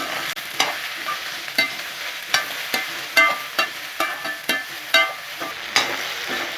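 Okra pieces being stirred in a frying pan, with sharp scraping strokes roughly every second over a soft, continuous sizzle, close and with no voices.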